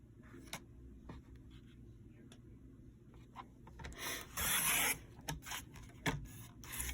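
A paper cutter slices strips of paper for paper beads, giving brief rasping, scraping strokes close by, with one longer hissing cut among scattered small taps.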